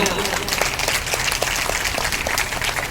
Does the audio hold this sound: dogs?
no